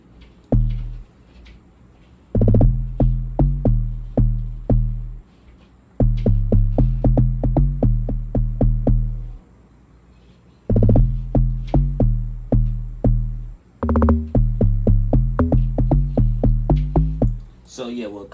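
Afro beat log drums give deep, bouncy, pitched low thumps in a repeating syncopated pattern, loud and close, with short gaps between phrases.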